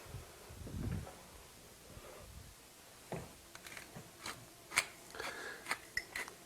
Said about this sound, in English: I'm going to go ahead and add a little bit of fresh cracked pepper right now.